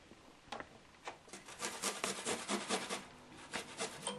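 Garlic cloves grated on a hand grater while cooking chicken fillet with vegetables: a run of quick, scratchy rasping strokes, sparse at first and then dense and rhythmic, close and fairly quiet.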